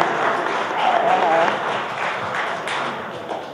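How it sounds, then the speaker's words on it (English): Crowd applause at a 95th birthday celebration in a museum, moderately loud and swelling then tapering off, with a few voices and thumps mixed in. "So I want you to applaud yourselves."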